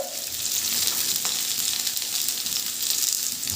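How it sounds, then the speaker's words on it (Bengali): Chunks of elephant foot yam frying with potatoes in a pan give a loud, dense, continuous sizzle with a hissing crackle, close up and steady, with no one talking. "ওলগুলো কিন্তু একেবারে ভালো করে আলুর সাথে ভেজে নেব"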